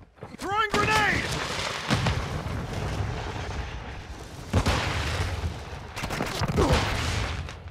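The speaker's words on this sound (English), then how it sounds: "Throwing grenade!" A grenade blast in the video game Call of Duty: Modern Warfare II lands amid loud battle noise, with sharp bursts and booms repeating over several seconds and voices talking over the action.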